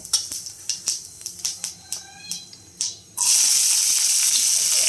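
Cumin seeds go into hot oil for an aloo curry. A few light clicking taps come first, then a sudden loud sizzle erupts about three seconds in and holds steady to the end.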